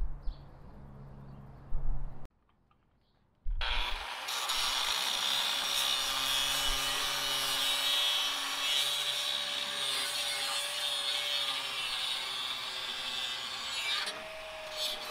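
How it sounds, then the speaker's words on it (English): Grinding down a rivet on the tow hitch of a 1985 Chevrolet C10 squarebody truck: a few clunks and a pause, then a loud, sustained abrasive grinding whine that runs unbroken for about ten seconds before dropping slightly. "I need to grind that down, the other side as well, and the tow hitch should be coming out."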